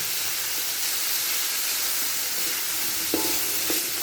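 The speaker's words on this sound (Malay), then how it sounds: "Tumis selama 5 minit" Steady sizzling hiss of grated coconut sautéing in a hot pan, with a couple of brief scraping stirs near the end.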